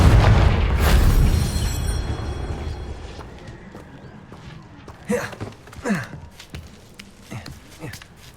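A Confringo blasting spell detonates in Hogwarts Legacy, a loud booming explosion with a rumbling low-end tail that slowly fades, followed by a few sharper, smaller bursts and impacts.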